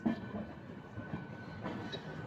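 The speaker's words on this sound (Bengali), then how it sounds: "এই যে ব্যান্ডেল স্টেশন ছেড়ে চলে যাচ্ছে আমাদের LHB কোচ নিয়ে বাগ এক্সপ্রেস।" An Indian express train with LHB coaches, the Bagh Express, rolling out of Bandel station, heard as a faint, steady rumble of wheels and carriages with soft rhythmic clatter and no talk.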